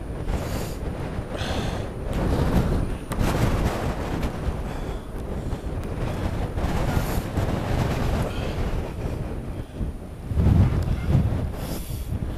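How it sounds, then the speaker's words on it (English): Steady wind buffeting a microphone outdoors while climbing a hill near the top of Shap, roughly 1354 feet up, with low rumbling gusts throughout and a stronger blast near the end. "Ah, fucking wind."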